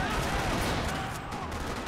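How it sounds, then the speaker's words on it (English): Dense gunfire rattles through a parking lot in the video game Max Payne 3, a loud, continuous barrage of overlapping shots that barely lets up, with a voice briefly in the mix. "Another parking lot rattling with gunfire."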